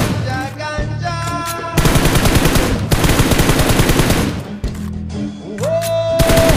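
Automatic weapons fire in the mobile battle royale game PUBG Mobile, loud sustained bursts of rapid shots with short gaps, close and dominant throughout.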